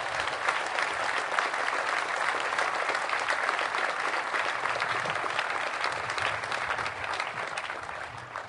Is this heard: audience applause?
yes